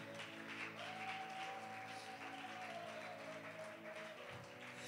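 A church congregation at a Sunday service applauds softly and steadily, a faint distant patter of clapping beneath a sustained keyboard tone.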